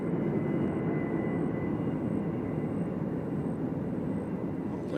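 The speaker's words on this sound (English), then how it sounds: "So why do I hear our very loud plane all of a sudden?" A loud airplane at Nashville International Airport, a steady broadband jet engine roar that stays strong and close throughout, with no talk.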